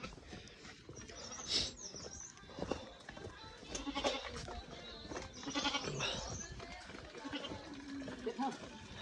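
Goats are driven along a village path in the hills, with several bleats rising at intervals over footsteps and rustling, while people talk nearby.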